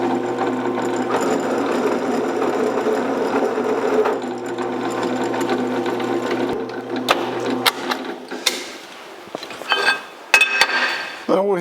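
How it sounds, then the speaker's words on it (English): A drill boring 11/32-inch holes in a metal bracket, a loud, steady motor whine held for several seconds close by, then cutting off into clinks and rattles of metal. "we'll drill some 11/32 of an inch holes"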